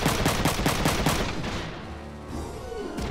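Dense, rapid mech gunfire in Front Mission 3, loud and close, a steady rattling volley that fades into a lingering rumble, then a brief sharp burst at the end.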